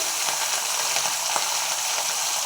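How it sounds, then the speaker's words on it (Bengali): Fish frying in hot oil, a dense, steady sizzle crackling evenly throughout, close and fairly loud, with faint light spatters and no voices. "তো এখানে মাছগুলো আমি ভাজতে বসিয়ে দিচ্ছি"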